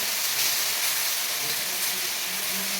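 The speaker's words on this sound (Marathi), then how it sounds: "या तेलामध्ये घालून घ्यायचा आहे आणि या शिरा दोन मिनिट छान सुक्या होईपर्यंत भाजून घ्यायचं आहे" Ridge gourd peel ridges roast in hot oil with a continuous, close, bright sizzling hiss that holds steady throughout.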